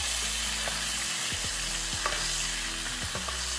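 Strip steak sizzling steadily in a hot skillet while butter is spooned over it, with a continuous broadband fry hiss and a few soft spoon scrapes and taps, no talking.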